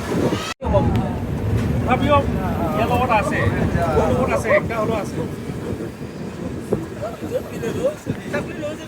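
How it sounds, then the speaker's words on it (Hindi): The Sairang–Guwahati Express passenger train runs along with a steady rolling rumble and rattle heard from inside a carriage, while voices and chatter in the coach sound over it throughout. "लमडिंग से हमारी जस्ट ट्रेन खुली है अभी।"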